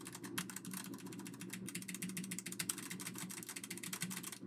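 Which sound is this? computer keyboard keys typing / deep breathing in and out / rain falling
computer keyboard keys typing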